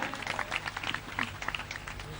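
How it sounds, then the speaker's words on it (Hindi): An outdoor yoga-demonstration audience claps for children performing difficult asanas, a loose, steady patter of scattered hand claps heard from a distance at low volume. "ऐसे बच्चों आप लोग तालियां बजाने में कंजूसी ना करें, इन बच्चों का उत्साहवर्धन करें।"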